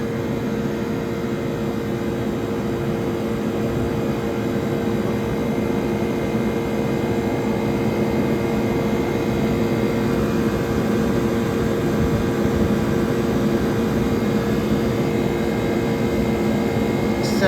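A 1978 Comfort-Aire Quietmaster air conditioner runs steadily, a continuous low hum and whoosh of its compressor and fan, even and unbroken from start to finish with no voices.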